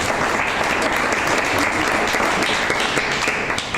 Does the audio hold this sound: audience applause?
yes